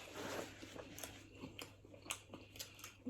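Close, quiet crunching bites and chewing of a crunchy burger, soft crackly snaps at an irregular pace, with no one talking.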